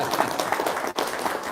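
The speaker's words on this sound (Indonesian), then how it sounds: "Tepuk tangan dong." A short round of clapping rises from the audience at an Islamic religious talk on husband and wife, a brisk, fairly close patter with a brief dip midway.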